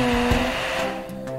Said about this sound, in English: Finally, a dryer to finish it off.